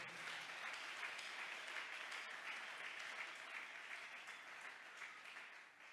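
A church congregation at a Sunday evangelistic service breaks into sustained, dense applause that fills the room, heard from a distance and fading slightly toward the end.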